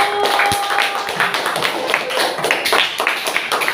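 Classroom applause for a student group after their presentation in a mathematics lesson, a burst of dense clapping from many hands filling the room, steady and moderately loud for a few seconds, with a teacher's voice briefly heard.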